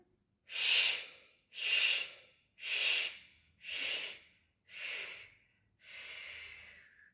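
Six short, forceful inhalations in steady succession during a stepwise breathing exercise, each a breathy rush close to the microphone, the last one longer and softer, with no talk.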